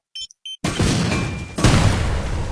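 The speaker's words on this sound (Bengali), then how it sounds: "এই গ্রেনেড মেরে দিছে" A grenade goes off in the Free Fire video game: a few short electronic beeps, then a sudden loud boom with a rumbling tail and a second crashing burst about a second later.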